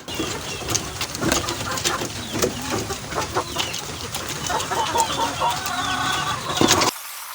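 A flock of backyard chickens clucking and pecking at feed continuously at close range, busy overlapping calls and scratchy clicks, stopping abruptly at the end.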